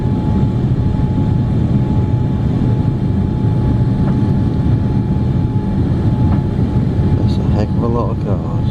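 A TUI Boeing Dreamliner touches down on landing, heard from inside the cabin as a loud, steady rumble and roar, with faint clunks near the end and a voice speaking over it.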